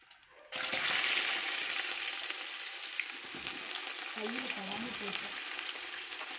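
Onions dropped into hot oil for mutton biryani, bursting into a sudden loud hiss after a quiet moment, then a sustained close sizzle that eases slightly while a voice murmurs faintly underneath.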